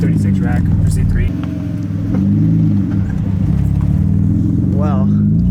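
A BMW E30 running an M52 engine with an M50 intake manifold drones loud and steady from inside the car, its low rumble dipping briefly as it bogs, with a voice talking over it.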